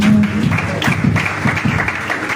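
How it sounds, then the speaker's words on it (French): Worshippers in a church clapping in praise of Jesus, a short burst of crowd applause with a brief vocal tone at the start and voices underneath. "toi, acclame Jésus."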